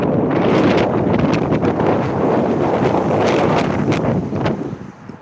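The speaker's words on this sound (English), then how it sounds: "It's a little bit windy out." Wind buffets the microphone on a city street in a loud, continuous rumbling roar that eases off near the end.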